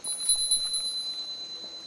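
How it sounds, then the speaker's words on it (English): A ringing bell sustains a steady, high, bright tone with a faint, shimmering texture, heard alone and fairly quiet throughout. "And it's the sound of a bell ringing."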